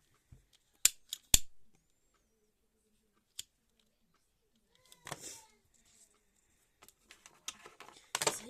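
A waxed cord on a handmade shambala bracelet is snipped off: a few sharp, close scissor clicks near the start, then quiet handling, scattered small clicks and rustles, with faint brief voice sounds later.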